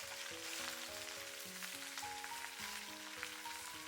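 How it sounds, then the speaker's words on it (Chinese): Shredded cabbage stir-frying in fat rendered from pork belly, a quiet continuous sizzle sitting under louder background music with a steady melodic pattern. "用这个五花肉煎出来的油把包菜煸炒一下"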